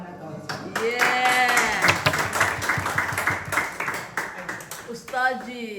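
An audience claps at an Urdu poetry mushaira, a dense round of clapping mixed with a melodic singing voice that carries over it from start to finish.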